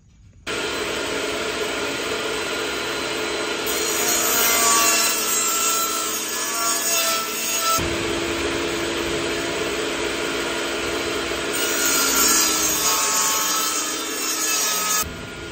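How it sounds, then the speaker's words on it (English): Rough old cabinet plywood being cleaned up with a power tool, a loud continuous whining, rasping drone that runs almost unbroken for the whole stretch with slight shifts in pitch. "right now I'm just cleaning it up a little bit plywood's in kind of rough shape"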